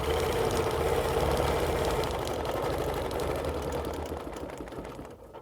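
Sewing machine running steadily while stitching straight lines across a quilt, a close rapid mechanical whir that fades off toward the end, with no talking.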